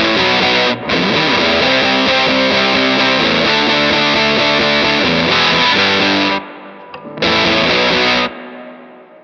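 Fuzzy electric guitar through an Anasounds spring reverb plays a loud, sustained chordal riff with a splashy reverb tail, stopping briefly before a final chord that decays into ringing echo.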